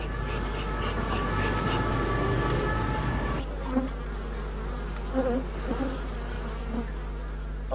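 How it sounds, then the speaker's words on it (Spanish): Honey bees buzz steadily in a city centre, a dense droning swarm with insect whines passing close, continuous and moderately loud throughout. "Las abejas funcionan mejor aquí, en el centro de la ciudad"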